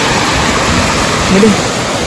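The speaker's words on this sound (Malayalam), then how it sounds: "നല്ല ഒഴുകണ വെള്ളം അല്ലേ" Water rushing steadily down a stream or small waterfall beside a roadside junction on the route toward Vagamon in Kerala, a loud, even, close roar with a brief faint murmur partway through.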